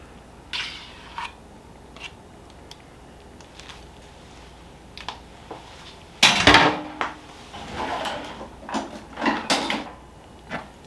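A utensil scoops sour cream into a slow cooker pot of German potato soup: a few soft taps early, then a louder burst of scraping and clinking against the pot followed by scattered knocks, with no talking.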